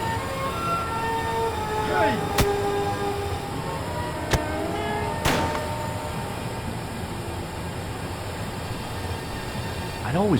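A train rolls along rails in Broken Sword, a steady rumbling drone with occasional sharp clanks and metallic squeals over it, heard at a fairly close distance.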